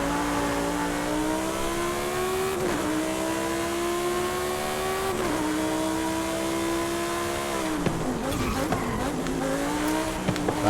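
A high-revving car engine screams in Forza Horizon 5, a loud sustained whine with rising and falling pitch, dipping at gear shifts around three and five seconds, then turning rougher with tire noise near the end.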